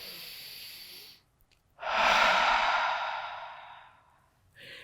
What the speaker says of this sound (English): a big cleansing breath in through the nose,